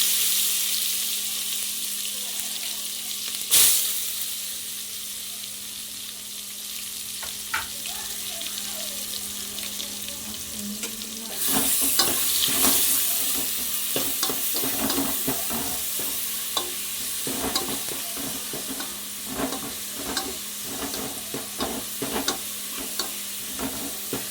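Ground shallot paste hitting hot oil with fried cinnamon and cloves in a pan for a chicken and mutton curry: a sharp burst of sizzling about midway, then steady frying crackle with stirring scrapes, close and fairly loud.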